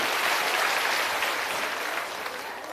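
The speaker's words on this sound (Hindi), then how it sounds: "एक बार जोरदार ताली बजाइए आदरणीय प्रसाद जी के।" A crowd gathered in a village school setting claps loudly and continuously, a thick rush of many hands that stays strong and then eases slightly toward the end.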